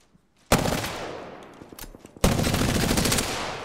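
Prowler burst fire in a video game: two loud, sustained volleys of rapid gunfire, the first trailing off into scattered shots before the second starts abruptly and runs on.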